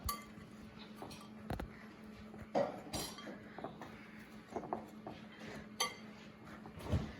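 Dry ingredients for eggless chocolate chip cookies being stirred in a bowl, giving faint, scattered clinks and scrapes of utensil against the bowl, with a few sharper knocks against a soft background hum.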